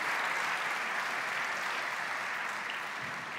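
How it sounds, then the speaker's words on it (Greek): Steady, dense audience applause fills a hall at a Greek award ceremony for sustainable and responsible entrepreneurship, sustained evenly throughout with no speech over it. "Με ένα χειροκρότημά σας να έρθει ο Δημήτρης μαζί μας."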